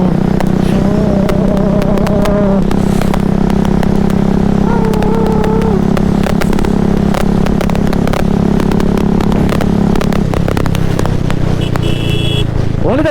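A Royal Enfield classic single-cylinder motorcycle on the move, its engine droning loud and steady with wind buffeting and road clatter throughout, briefly easing off near the end.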